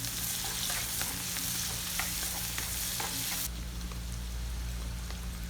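Chicken crackles and spits in hot oil in a pan, a close, busy sizzle with stirring clicks, over a low hum that swells partway through.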